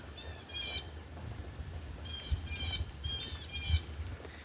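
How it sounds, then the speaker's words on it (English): Blue jays squawk outdoors in three or four harsh bursts, fairly near, over a low steady background rumble with no talking. "Me and the Blue Jays are really squawking."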